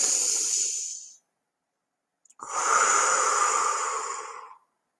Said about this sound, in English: Let's take our 3 deep breaths